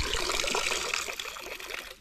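Tap water runs steadily into a container at a camp, a continuous splashing trickle close by that tapers off near the end, with no talking.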